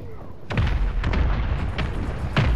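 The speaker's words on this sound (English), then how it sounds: "Mortar strike on the way." Heavy mortar-strike explosions in Call of Duty land in quick succession, several deep booming impacts with sharp onsets rumbling over continuous low battlefield noise.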